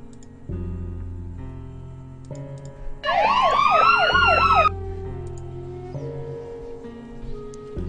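A short burst of wailing ambulance and police car sirens rises over a low droning background at a construction site, sweeping up and down for a couple of seconds before fading back to the hum.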